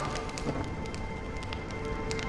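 Steady rain falls in the video game Honkai: Star Rail, a soft continuous hiss dotted with scattered light drop ticks and no speech.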